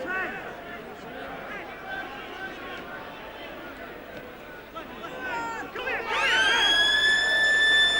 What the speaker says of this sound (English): that's the half-time siren